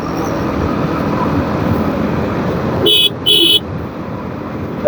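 A vehicle horn sounds on a village road during overtaking, two short loud honks in quick succession rising over steady road and engine noise while someone talks.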